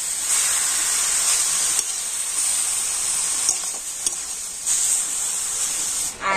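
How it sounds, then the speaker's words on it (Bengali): Grated raw papaya fries in a pan with a steady, bright, hissing sizzle, broken by occasional soft scrapes and taps as it is stirred, close and continuous with no talk. "পেঁপেটা কিন্তু একটু ভালো করে আমি নাড়াচাড়া করে নেব।"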